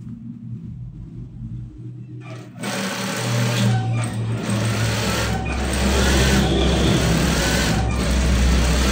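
A sewing machine stitching a trouser pocket: at first a quiet background, then the motor starts and runs as a steady loud whirring drone, speeding up a little toward the end, with no talk.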